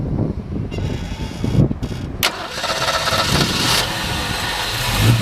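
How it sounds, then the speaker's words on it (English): A 1965 Ford Mustang convertible's V8 engine cranks and catches with a sudden burst, then settles into a loud, steady idle with a rough, throaty rumble through its dual exhaust, close by and with no talking. "Nice running little V8."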